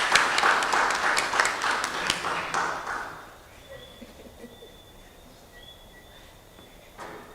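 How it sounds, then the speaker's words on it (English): Dense audience applause at a panel discussion on vaccination, a broad wash of many hands clapping for about three seconds before fading into quiet room noise, with faint bird calls afterward. "Dr. Jackson, give her a welcoming round of applause, please."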